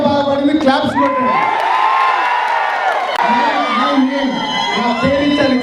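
An audience cheers and shouts at a live stage event after a singer's performance, a loud crowd roar with whoops and some clapping, mixed with voices and a little music.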